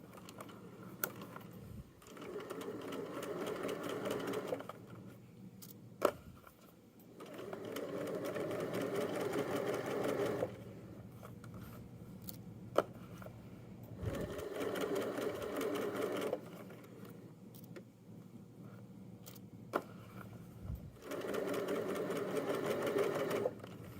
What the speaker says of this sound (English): And I'll sew all the way around, and then also again at 3/8 inch seam allowance.